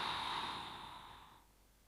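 One long, soft exhale during a bedtime stretching exercise, close and steady, gently fading before trailing into near silence.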